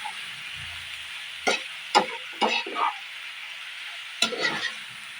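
Eggs and eggplant stirred in a frying pan for ginisang talong, a faint steady sizzle broken by a few distinct scraping stirs near the start and another pair toward the end.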